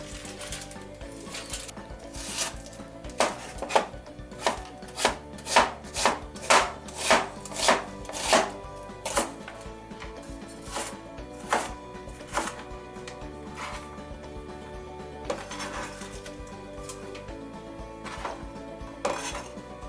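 Knife chopping carrot and onion on a board, a run of sharp, evenly spaced rhythmic cuts that speed up, then looser scattered taps, close and clear with no talk.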